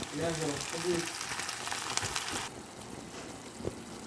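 Hilsa fish frying in a pan as red amaranth greens are tossed in, giving a loud, steady sizzle that quiets noticeably about halfway through, with a faint voice early on.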